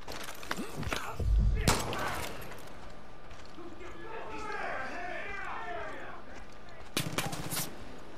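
Enemy gunfire in the Far Cry 5 video game, with a few sharp bursts of shots at the start and again near the end, a quieter stretch of distant rattling between them, and someone talking over it.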